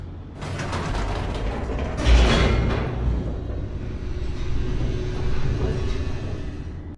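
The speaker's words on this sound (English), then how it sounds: "The elevator raced downward, plummeting towards an unknown fate." An elevator descends in The Stanley Parable video game with loud, close mechanical rattling and creaking gears over a constant low rumble, a heavier clunk near the start, then a steady grinding run as it keeps dropping.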